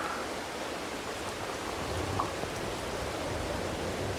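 Rain falls steadily in the video game Farming Simulator 22, a soft, even hiss of drops on the surrounding surfaces, moderately quiet and unbroken, with no talking.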